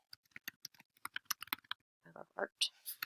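Quick, light keystrokes tap on a computer keyboard in a rapid run, a brief pause, then a few heavier clacks close up.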